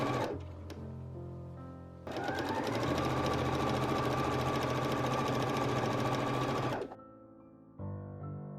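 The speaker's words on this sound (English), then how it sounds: "I'm so thankful for sewing machines." A sewing machine stitches pin tucks on a white DOEN-style skirt, running in one steady, even whir for about five seconds between quieter stretches of low hum.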